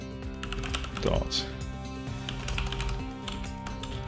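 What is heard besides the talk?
typing on a computer keyboard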